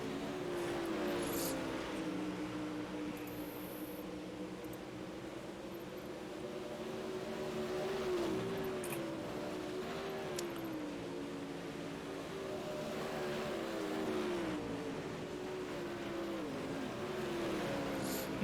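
A dirt late model race car engine at Eldora Speedway in iRacing drones steadily for the whole stretch, its pitch rising and falling in regular waves as the car laps, loud and close with no talk.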